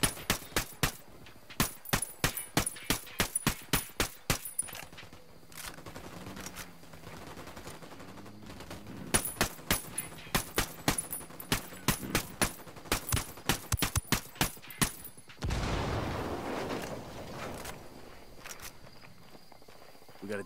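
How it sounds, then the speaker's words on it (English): Video game gunfire in Ghost Recon Wildlands: rapid bursts of automatic fire, some in tight strings and others as spaced single shots, with a louder sustained blast near the end. "Opening fire on these fuckers."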